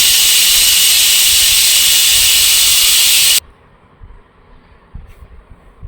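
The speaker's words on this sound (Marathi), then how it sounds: "कुकरचं झाकण बंद करून पुन्हा 2 शिट्ट्या" A pressure cooker releases steam in a loud, sustained hiss that stops abruptly partway through and leaves a quiet room with faint clatter.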